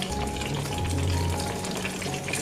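Blended chili paste for tomato sambal fries in a little hot oil over low heat, giving a steady, dense sizzle that stays close and constant throughout with no talking.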